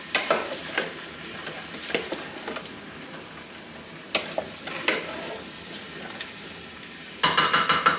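Chilies frying in a pan for Hungarian lecso give a low sizzle beneath repeated sharp scrapes and clinks of a utensil stirring against the pan, with a brighter burst of clatter near the end.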